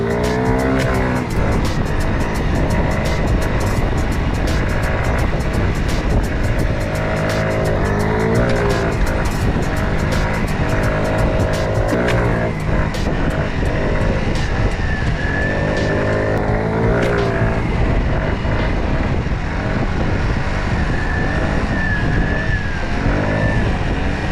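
A stock 50cc four-stroke moped engine revs hard and continuously during wheelies, a loud, close buzzing drone with rising and falling pitch as the throttle opens and eases off, with no talking.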